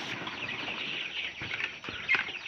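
Chicks being fed peep continuously in a high, busy chorus, close by, with a few soft pecking knocks and a brief louder chirp, no talk.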